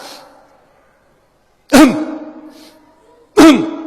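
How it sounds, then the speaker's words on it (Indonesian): Two sharp, forceful throat-clearing bursts sound close by, separated by a short pause. "Gimana cara berdehem yang benar?"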